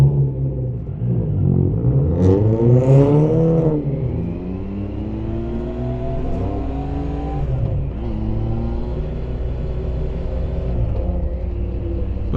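A Honda Gold Wing motorcycle rolls past on an open road, its engine note rising and then falling as it passes close by, with a steady rumble continuing underneath.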